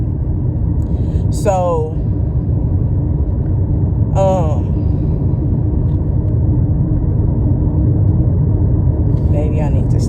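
A car drives along a road with a steady low rumble of engine and tyres heard from inside the cabin, continuous throughout while someone speaks over it in short phrases.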